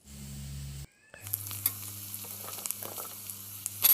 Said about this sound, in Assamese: কাটি থোৱা জলকীয়াখিনি মই ইয়াত দি পেলাই ভালদৰে ভাজি ল'ম